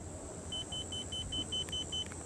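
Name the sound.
electric boat motor beeping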